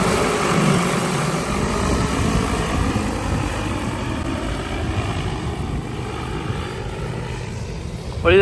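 An agricultural spraying drone flies over a farm field, its high propeller whine droning steadily for several seconds with a brief rising pitch sweep near the end.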